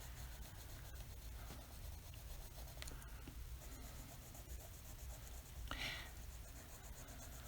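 A sharp colored pencil presses heavily on textured paper, making faint scratchy strokes and rubbing with a few louder scrapes, close and quiet, alone without speech.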